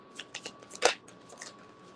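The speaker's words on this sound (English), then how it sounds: "All right, let's shuffle this up." A deck of cards shuffled once in a quick riffle burst near the middle, with softer card handling flicks before and after; nobody talks.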